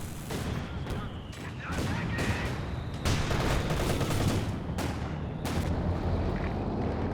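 Panzerwerfer rocket artillery firing in Company of Heroes 2 produces a dense, continuous barrage of booming launches and sharp cracks from a war game battle, loud and sustained throughout.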